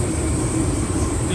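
A train running, heard from inside as a steady, loud rumble and rolling noise with a constant high whine above it.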